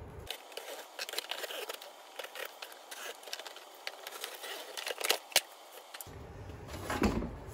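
Scissors or a blade cut through a cardboard box from a car spoiler in a garage, giving irregular scraping snips and crinkles at close range, with a sharper snap near the end.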